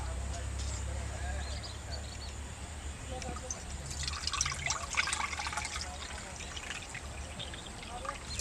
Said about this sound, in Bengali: আমি এবার জলগুলো বের করে নিব